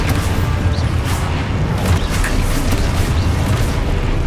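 An Expulso explosion spell goes off in Hogwarts Legacy, a dense, continuous booming blast with crashing debris that stays loud and rumbling throughout.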